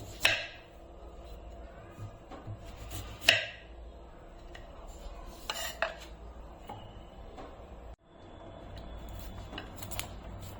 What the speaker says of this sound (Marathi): इथे आपण बीट आता अशा प्रकारे कट करून घेऊ